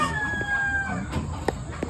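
Chickens cluck and call close by on a Philippine poultry farm in the morning, with a few short squawks over a steady farmyard background.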